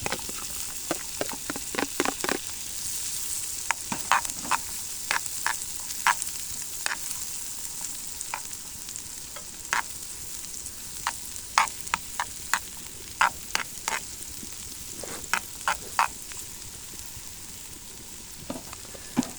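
Onion sizzling and frying in a pan over a campfire outdoors on a frosty day, a steady crackling hiss with sharp pops scattered throughout, close and alone with no talk.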